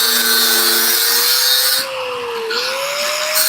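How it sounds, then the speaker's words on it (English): An angle grinder cuts into the sheet-metal floor skins of a 1937 Lincoln Zephyr in a shop, a loud, steady high whine whose pitch dips and climbs again as the disc bites and eases, with no talking. "I'm gonna stand over here while Ian cuts, because that grinder messes with the gimbal."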